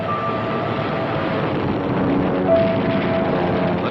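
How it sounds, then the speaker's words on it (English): World War II Navy torpedo planes, bombers and fighters fly overhead, giving a steady, loud engine drone that swells slightly midway and holds without any speech. "torpedo planes, bombers, and fighters come in for the kill"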